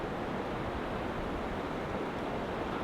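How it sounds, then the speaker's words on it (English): Strong, cold wind blowing outdoors in the wilderness, a dense, continuous roar of rushing air and buffeting against the microphone at steady high loudness, with no voices. "As you all can hear, it's quite windy."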